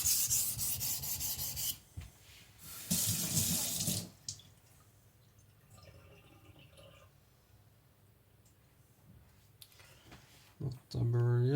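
A Zwilling petty knife is rubbed on a wet whetstone with a few loud, gritty scraping strokes, then it goes quiet, with faint handling noises before a final short scrape.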